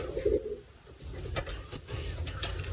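A brown racing pigeon coos softly up close, with a low throaty call near the start and a few quieter murmurs after, over faint background hum.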